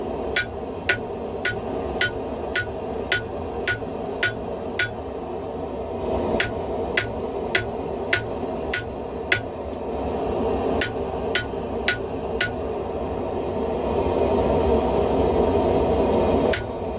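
A hammer strikes metal during forge welding, hitting harder with each round. Sharp, ringing blows fall at a quick, steady rhythm, each one clear and close, with brief pauses between runs and a low roar underneath.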